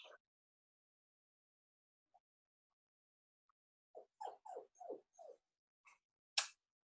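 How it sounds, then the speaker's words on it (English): A dog gives a few faint, short whimpering cries in quiet surroundings, a small cluster of brief whines with one sharper high yelp at the end. "the dog is crying"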